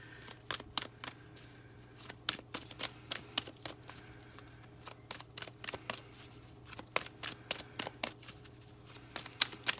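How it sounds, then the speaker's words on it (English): Tarot cards are shuffled repeatedly with crisp, rapid riffling snaps in a steady stream of short bursts, close up against a faint background hum. "I like to shuffle until the card comes out."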